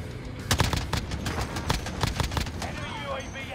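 Rapid gunfire bursts crackle in a Warzone video game match, several sharp volleys clustered over a few seconds with a busy battlefield background and brief voice chatter underneath.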